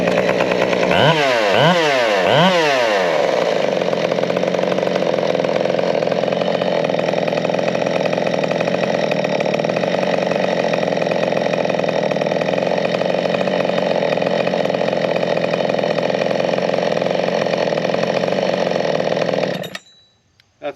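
A big bore 572 chainsaw engine revs in a few quick rising bursts at the start, then holds a loud, steady idle for nearly twenty seconds before cutting off abruptly at the end, with no talking.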